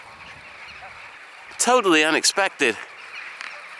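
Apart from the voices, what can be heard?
flock of birds honking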